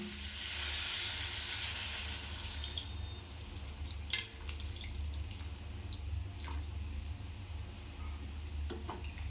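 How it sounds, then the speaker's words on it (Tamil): Water is poured into a pan of vegetable gravy with onions and mixed vegetables, a steady close splashing and running that starts loud and continues with faint sizzling and a few small clinks. "இப்போ இதுக்கு வேகிற அளவுக்கு ஒரு 1/2 டம்ளர் தண்ணி சேர்த்துக்கலாம்."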